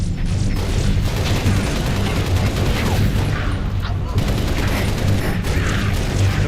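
Explosions and gunfire from a Halo Reach firefight, with grenades going off amid a dense, continuous barrage of booms and rattling shots, loud and sustained throughout.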